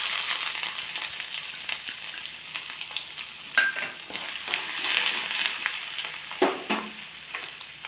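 Chopped ginger sizzling in hot oil in a pan, a continuous crackling fry close by, with a few stirring scrapes and utensil clinks partway through and no talking.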